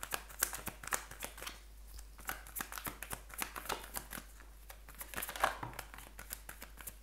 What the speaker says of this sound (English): I'm going to jump straight into it and shuffle the cards for you